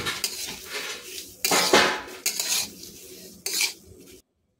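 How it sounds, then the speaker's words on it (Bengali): Lentils dry-frying in a pan are stirred in bursts, producing loud scraping and rattling clatter of a utensil against metal with short pauses between strokes, ending abruptly; no voices. "তো এইভাবে ডালগুলোকে ভেজে নেব।"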